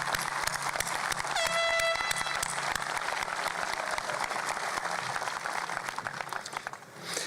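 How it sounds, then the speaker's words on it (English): Sustained applause fills a 2018 Piqua High School graduation ceremony as silver-cord students stand for recognition, a dense crowd clapping steadily throughout with a short horn blast early on, fading slightly toward the end. "Please give them a round of applause."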